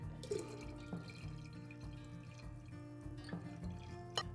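Liquid for homemade hard lemonade is poured out in a faint, continuous trickle with small drips and splashes, close by and without talk.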